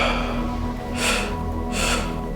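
Two forceful breaths pushed out through the mouth in a therapeutic breathwork exercise, each a loud, airy whoosh lasting about half a second, close to the listener and evenly spaced.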